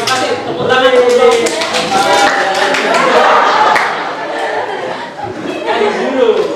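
A class claps its hands together, steady clapping mixed with chatter and a little laughter, with a voice speaking over it throughout.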